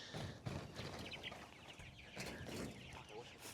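Several newly arrived chickens cluck and chatter close by at feeding time, a busy overlapping mix of short clucks and murmurs with a voice talking over them.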